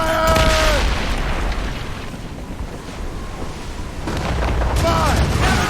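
Naval cannons fire in an Assassin's Creed Rogue ship battle, with deep booms at the start and again near the end over a constant rumble of wind and sea, and voices shouting between them.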